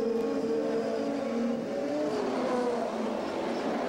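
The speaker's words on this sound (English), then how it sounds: "Three different chassis, three different engines as they come up behind Hero and look for offline position to get around him." CART race cars with three different chassis and engines accelerate on the 1996 Detroit street circuit, a dense continuous engine roar with rising tones as several cars pass in a pack, loud and sustained.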